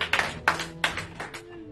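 Claps in a church service, heard as a handful of loud, sharp claps in a steady rhythm, each fading quickly, with a low hum underneath.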